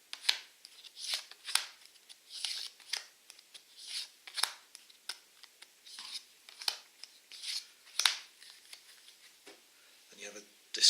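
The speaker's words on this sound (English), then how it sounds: "each player is dealt 6 cards at random" Playing cards dealt by hand for a six-card game, with quick close snaps and slides of individual cards in an irregular rhythm, soft and intimate, alongside some talking.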